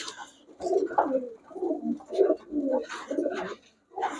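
Pigeons cooing inside a shop selling pigeons: soft, throaty, rolling coos repeating steadily and close by, several birds overlapping in a continuous murmur with short pauses.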